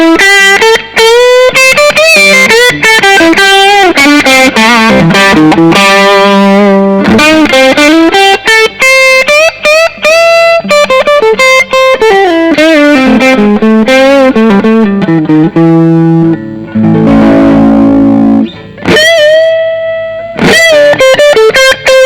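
A loud distorted electric guitar plays continuous riffs and chords, switching between bridge and neck pickups, with a brief change in tone partway through before the heavy playing resumes.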